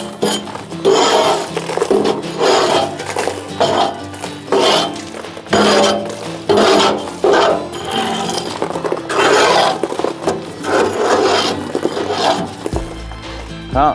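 A homemade scraper rasps creosote off the inside of an outdoor wood boiler, in loud, repeated metallic scraping strokes with clanks and a steady back-and-forth rhythm.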